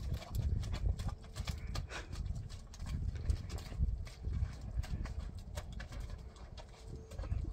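A horse's hooves clip-clop on hard ground in a steady walking rhythm, close and fairly loud, with faint birdsong in the background and no talking.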